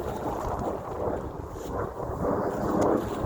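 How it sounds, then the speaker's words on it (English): Airplane flying overhead on a rainy hiking loop in Virginia, a dull continuous low rumble swelling and fading, blended with wind noise. "Sorry about the airplane noise."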